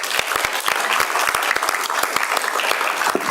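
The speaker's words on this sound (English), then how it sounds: "let's give him a big round of applause" Hearty applause rises from the audience at a city council meeting, with a dense wash of clapping and a few sharper individual claps standing out close by across the short stretch.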